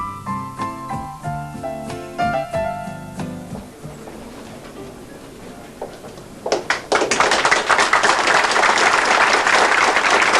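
A crowd welcomes Iceland's President Vígdís on her 1990 visit to Japan, with loud, close, dense applause that bursts in after a stretch of plucked tonal music and carries on to the end.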